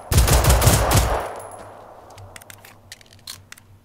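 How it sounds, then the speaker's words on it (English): A burst of rapid pistol shots in the video game Generation Zero fires close and loud, followed by fading echo and a few scattered clicks. "Again, let's shoot our pistol."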